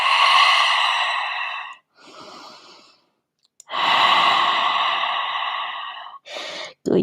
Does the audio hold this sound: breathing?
yes